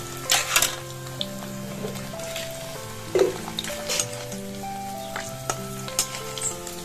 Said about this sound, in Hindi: हल्का हल्का पनीर को फ्राई किया तो भी अच्छा है